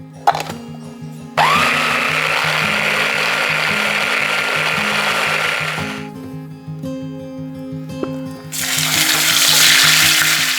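A meat grinder churns ground meat for a spaghetti meat sauce, a loud steady motor whir that runs for several seconds, cuts off, then starts again, with a persistent tonal hum underneath.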